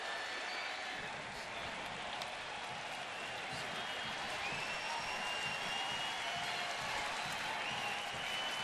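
A baseball crowd rises to its feet cheering, a dense, steady roar of voices and applause filling the whole stretch at even loudness with no single sound standing out.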